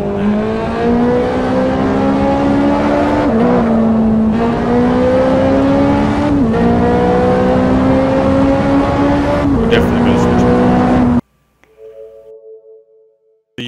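A Ferrari Huracan GT3 racing around Silverstone in the Assetto Corsa video game, its engine loud and steady with repeated gear shifts and rising revs for about eleven seconds before cutting off abruptly.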